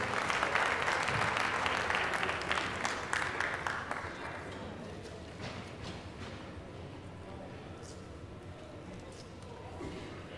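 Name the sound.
audience applauding boxers at end of final round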